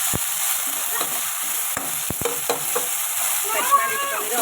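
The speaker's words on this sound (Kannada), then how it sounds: "ಕಟ್ ಮಾಡಿ ಇಟ್ಕೊಂಡಿರೋ 1 ಟೊಮೆಟೊ ಹಾಕಿ ಚೆನ್ನಾಗಿ ಫ್ರೈ ಮಾಡ್ಕೊಬೇಕು" Chopped onion and a tomato frying in a pan for rice bath, a steady close sizzle broken by several sharp scraping stirs of a spatula, with no voices.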